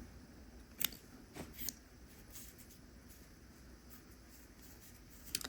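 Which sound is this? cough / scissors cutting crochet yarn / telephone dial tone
scissors cutting crochet yarn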